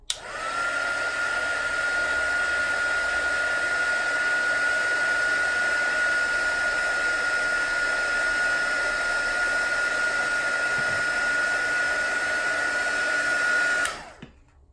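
A hair dryer blows steadily for about fourteen seconds to dry white watercolour paint on a duckling painting, a loud, close, continuous whir with no talking, cutting off abruptly at the end.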